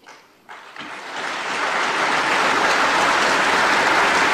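Audience clapping during a public speech, starting with a few isolated claps and quickly swelling into loud, dense, sustained applause that fills the room.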